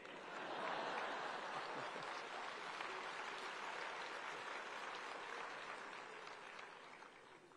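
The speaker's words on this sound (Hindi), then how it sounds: "सुनने वाले को ताली बजाने में देर लगेगी।" Audience applause rises quickly at a speech, a dense crowd clapping that stays sustained for several seconds before slowly tapering, fairly faint and without voices on top.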